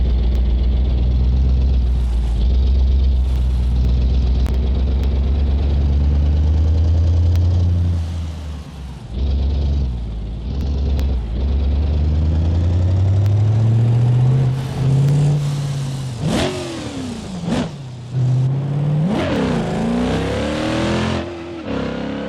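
A 1,000 horsepower four-wheel-drive truck in a racing video game, on the Nordschleife, roars loudly and steadily at high revs, its engine pitch climbing and dropping through gear changes near the end.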